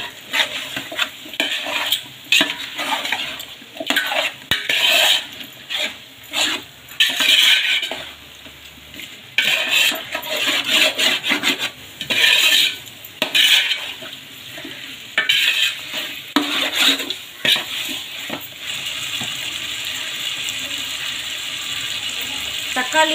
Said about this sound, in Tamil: தக்காளி சேர்த்துட்டு இந்த மாதிரி நல்லா மிக்ஸ் பண்ணிக்கோங்க.